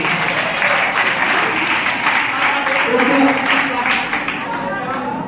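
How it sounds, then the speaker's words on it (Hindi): Loud, sustained applause from the audience at a kavi sammelan poetry gathering at a Jain Sanskrit college in Sanganer, Jaipur, a dense even clapping that fills the whole stretch and fades slightly at the end. "ये कभी सम्मेलन सफलता के प्रयास पर एक बार जोरदार तालियां हैं।"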